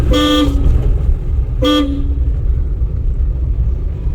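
Two short car horn honks during a driving lesson, the first about half a second long and the second briefer, sounding over a steady low engine rumble.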